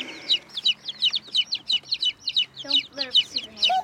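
Dozens of young chicks in a brooder chirp and peep in a rapid, steady run of high bright calls, close and fairly loud, with faint background noise beneath.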